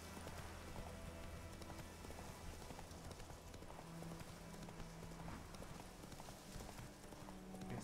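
Hooves of the horse Roach clip-clop at a steady galloping rhythm in The Witcher 3, fairly loud and continuous over a dense game soundscape with rain-like texture, no talking.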